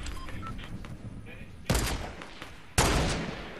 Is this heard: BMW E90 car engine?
no